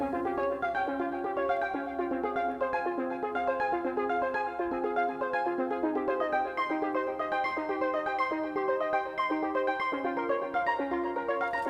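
A techno pattern from an Elektron Digitone synth and Digitakt drum machine plays in regular mode: a steady pulsing beat under looping melodic synth lines, dense and continuous at an even level.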